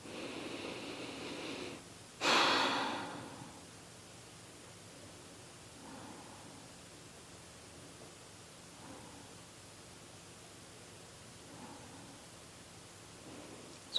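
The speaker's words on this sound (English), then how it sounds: "just relaxing the upper body and breathing in and out through the nose here" Slow breaths in and out through the nose during a seated chair yoga stretch: a sharp, airy inhale near the start, then soft, faint exhales returning every few seconds against quiet hiss.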